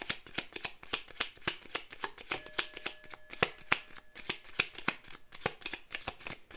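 A deck of playing cards being shuffled and handled, with a rapid sequence of crisp riffling snaps and flicks close to the microphone.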